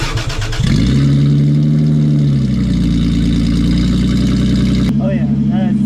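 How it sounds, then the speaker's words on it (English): A Lexus GS300 engine with a straight downpipe exhaust fires up and idles loudly with a raspy, droning tone, holding steady for several seconds before a sharp cut and a couple of brief revving blips near the end. "we can't miss this opportunity to listen to a straight downpipe"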